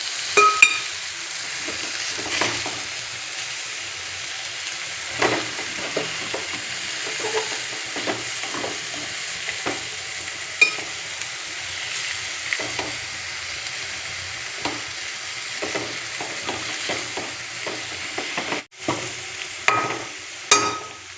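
Fish pieces fry in hot oil in a pan, a steady close sizzle running throughout with scattered clinks and scrapes as the delicate pieces are turned, and one sharp knock near the end.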